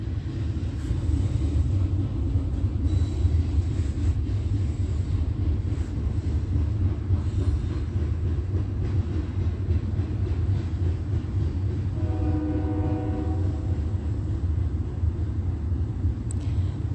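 A train rolls back and forth on the tracks near the Ontario Museum of History and Arts in the middle of the night, a continuous heavy low rumble throughout, with a brief faint horn-like tone near the end; no voices.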